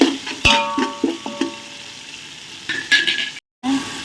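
Onions, with tomatoes about to go in, fry in a pan under a low sizzle, while a spoon scrapes and clinks against the pan in sharp, uneven strokes, close by and without talk.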